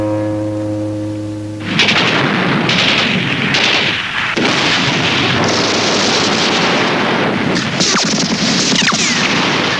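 Soviet artillery bombardment in wartime Berlin, heavy booming blasts and rumbling detonations that erupt after a low steady tone and then roll on continuously, dense and loud with crackling bursts layered throughout.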